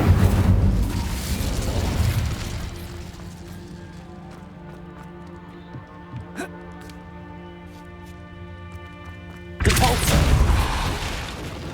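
The Incendio fire spell cast in Hogwarts Legacy flares up in a loud whooshing burst, settles into a quieter ringing hum with small crackles, then erupts again in a second strong rushing blast near the end.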